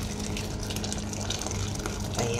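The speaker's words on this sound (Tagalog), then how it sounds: "Dagdagan natin guys ng half liter mainit na tubig." Half a liter of hot water pours steadily into a pot of chicken sopas with crab meat and elbow macaroni, a continuous close gushing splash that swells slightly near the end, with no talk.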